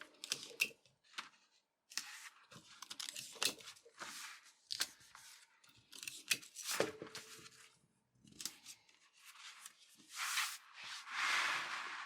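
Tape being pulled and torn off a roll to secure a paper sewing pattern, a series of short ripping and crinkling bursts with pauses between, close up, ending in a longer tearing strip.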